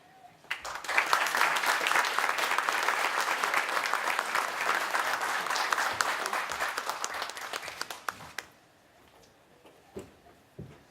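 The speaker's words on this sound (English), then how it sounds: "Please hold your applause till I'm done reading" Sustained applause from an audience at a police department awards ceremony, a dense steady clapping lasting about eight seconds before fading to a few scattered claps.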